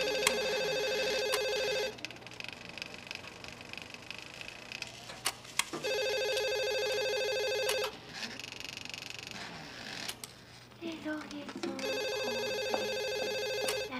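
An old-style telephone rings in loud bell bursts of about two seconds each, separated by quiet gaps, with faint room noise between rings.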